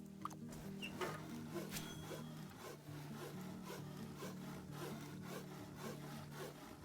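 Wood being sawn in the video game Bitcraft Online, a steady back-and-forth rasping of repeated strokes, fairly quiet and alone with no talk.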